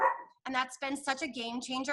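A dog barks briefly indoors, partly under a person talking nearby, the barking blending with the voice rather than standing alone.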